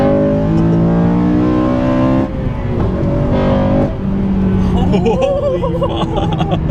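Acura CSX Type-S fitted with a cold air intake revs loudly nearby, engine note rising and falling through several pulls, with excited voices talking over it.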